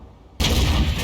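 In a tank video game, the main gun of a Swedish Strv 103B fires a single loud, sharp blast after a quiet moment, followed by a brief booming decay.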